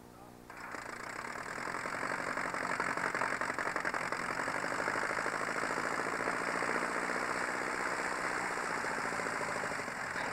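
A Sportster Aero aircraft engine runs steadily during taxi, a continuous buzzing drone with a fast regular pulse that rises at the start and holds loud and even throughout.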